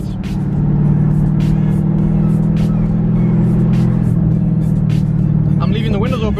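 A Dodge Charger Scat Pack's V8 drones loudly and steadily in manual mode with paddle shifts, heard from inside with the windows open, with someone talking over the engine and a higher whine near the end.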